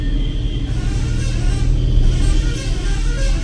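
On a narrow hill road at a hairpin bend in the Kolli Hills, passing vehicles produce a low, continuous engine rumble that swells slightly as they go by, with no talking.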